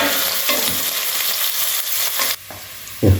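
Sliced onion and green chilies sizzle and fry in a pan over low heat, a dense, steady crackling hiss with a few stirring scrapes and a brief dip near the end before the spatter resumes. No one speaks.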